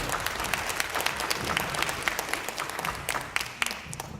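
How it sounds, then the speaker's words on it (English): Audience applause after a high school symphony orchestra concert: dense, crackling clapping from a crowd, steady throughout with scattered sharper claps and no talk. "So give them a round of applause."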